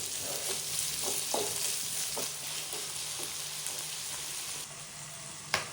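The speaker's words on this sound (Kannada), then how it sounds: "ಸ್ವಲ್ಪ ಫ್ರೈ ಮಾಡ್ಕೊಳ್ಳಿ." Masala for chitranna fries in a pan, a steady close sizzle with occasional clicks of a spoon stirring against the metal, and no voices.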